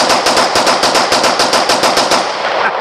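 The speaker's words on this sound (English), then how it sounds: "He's gonna show you how to shoot two guns." Rapid gunfire from two handguns fired at once, a fast rattling string of about fifteen loud, sharp cracks in quick succession, close and with no voices over it.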